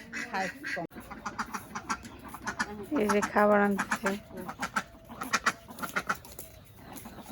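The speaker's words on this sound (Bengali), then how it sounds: "হাঁস এসে এক হাঁস আরেক হাঁসের ডাকাডাকি করে" Several ducks quack in quick bursts, calling back and forth close by, while a person speaks briefly over them.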